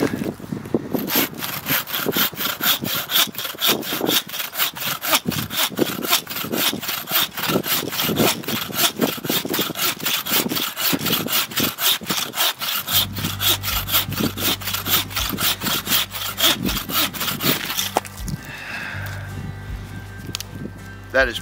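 A handmade folding bucksaw cuts through a live, wet log four or five inches thick with fast, regular, rasping strokes that stay loud and close. The strokes change character partway through as the cut deepens, then stop near the end.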